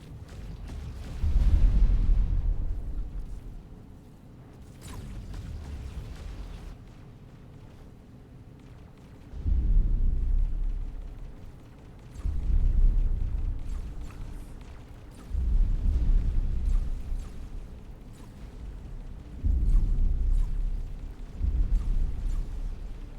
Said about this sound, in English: Here comes the missiles.